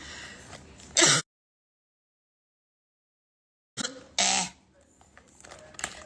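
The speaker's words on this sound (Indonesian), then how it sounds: "Sisa-sisa kemarin yang batuk masih ada loh." A woman coughs a couple of times, with short harsh bursts heard close up, separated by a stretch of silence. Faint voice sounds can be heard around the coughs.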